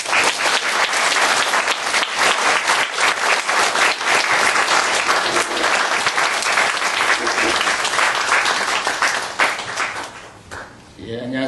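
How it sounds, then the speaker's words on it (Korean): A church congregation at a Sunday service gives sustained, dense applause to welcome a visiting poet, loud and even throughout before fading out as a voice begins at the end. "우리 박수로 환영하겠습니다."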